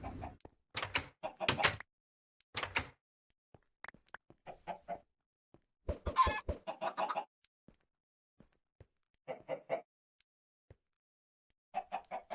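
Chickens cluck and a rooster calls in the Agrarian Skies video game, in several short bursts of close clucking separated by silent gaps.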